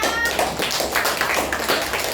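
A classroom of children clapping their hands together, a dense, steady patter of many quick claps close by, with no talking.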